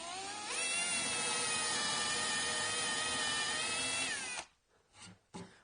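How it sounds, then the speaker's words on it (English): A power drill with a 3/8 bit bores holes into a wooden table top, whining loud and steady for about four seconds before winding down, followed by a few brief handling noises. "I've put a couple of holes in, and I'm using a 3/8 bit"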